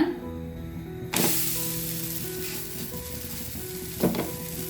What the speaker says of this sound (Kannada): ಇನ್ನೊಂದು ರೊಟ್ಟಿ ಕೂಡ ಅದೇ ಥರ ಬೇಯಿಸ್ಕೊಳ್ಳೋಣ